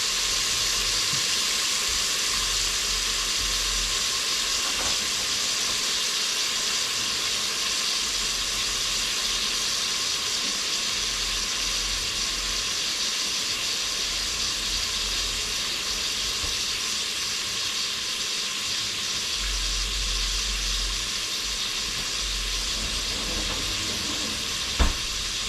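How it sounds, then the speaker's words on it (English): Meat frying in bacon fat in a pan, a steady dense sizzle and hiss that continues evenly at close range with no talking. "Okay, that's the sizzling away."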